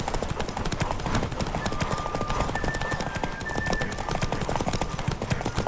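A horse gallops in a video game, a fast steady clip-clop of hooves continuing throughout, with a brief high tone now and then over the rhythm.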